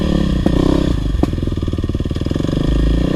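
A dirt bike, either a 2022 KLX 300R or a 2009 KTM 450SXF, works through a tight technical trail, its engine loud and close, pulsing and revving with clattering and scraping knocks over rough ground.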